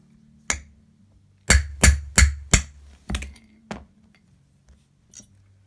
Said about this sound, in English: And then with an old jobbing hammer, not one of your jeweling hammers,